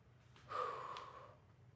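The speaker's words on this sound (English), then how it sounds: "Exhale." A single audible exhale during a high-plank stretch in a workout, a breathy rush lasting about a second, close and fairly soft, with no talking over it.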